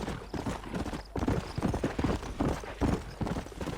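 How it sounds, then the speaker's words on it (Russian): Horse hooves in the video game Red Dead Redemption on PC: a steady, rhythmic clip-clop of a horse moving along, fairly close, with quiet sounds of the game in the background. "Лошадь."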